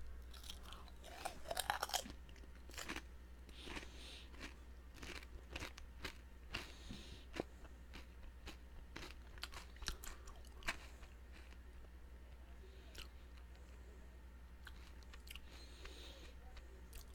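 Close, crisp crunching and chewing of Lay's Southern Style Biscuits and Gravy potato chips, with irregular sharp bites and crackles over a low hum, loudest at the start, then steady mastication.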